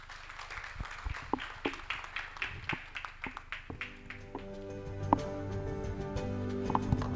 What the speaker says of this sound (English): Another big round of applause for Mr.